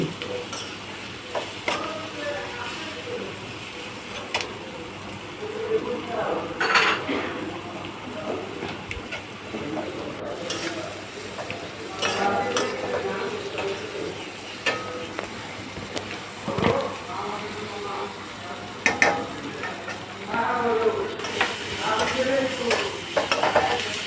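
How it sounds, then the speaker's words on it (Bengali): Spice-coated onions sizzle in a pan while a small fish dish is cooked, with loud continuous frying, repeated stirring and scraping, and occasional clinks throughout. "আমি একটু ভালোভাবে ভেজে নিচ্ছি"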